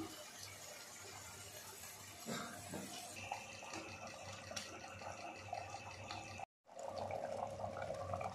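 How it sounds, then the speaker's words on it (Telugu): Tamarind pulp juice pours steadily into a pot of fish curry, a continuous close trickling flow with brief shifts in tone and one short cutoff near the end; no talk. "సో చింతపండు గుజ్జు తీసి చింతపండు పులుసు పోస్తున్నాం."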